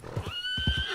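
A horse gives a short, high neigh that sweeps upward, with a few soft hoof thumps nearby.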